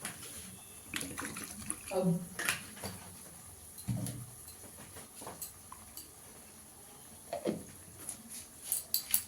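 A mixer grinder jar rinsed with splashing water in a home kitchen while cooking malai chicken, with intermittent sloshes and clinks of the bowl close by.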